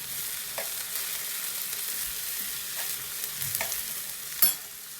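Banana pieces frying in a pan until soft, a soft continuous sizzle with occasional spoon scrapes and a sharper clink near the end.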